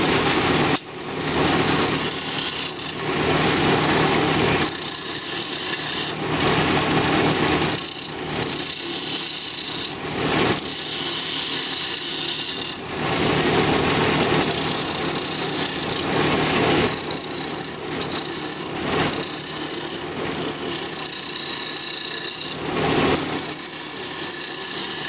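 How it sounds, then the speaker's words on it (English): A small spindle gouge cuts into a spinning wooden mallet handle on a lathe, making a steady, close scraping and rasping sound with rhythmic swells as the tool moves across the wood. "now I have a tiny little spindle gouge, and I'm just going to go in there and put the last details on the handle"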